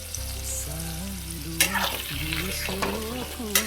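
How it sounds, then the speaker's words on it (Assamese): Boiled, halved medium potatoes frying in hot oil give a loud, steady sizzle, broken by a few sharp scraping stirs of a spatula in the pan. "মই আলুখিনি ভালকৈ ভাজি ল'ম ইয়াতে"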